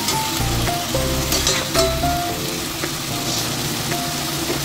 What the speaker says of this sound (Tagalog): Saka natin ilagay yung buong chicken.